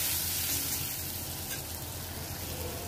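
Spices frying and being stirred in a pan for samosa filling, with ground coriander and asafoetida, give a steady, close sizzle with faint scraping, no voices.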